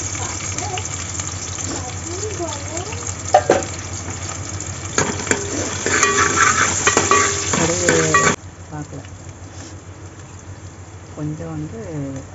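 Mustard seeds crackle and splutter in hot oil with some stirring clatter, strongest early on, then dropping to a softer sizzle while a person talks, cooking a kurma curry.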